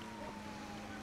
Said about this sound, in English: I still hear sirens, but I don't see him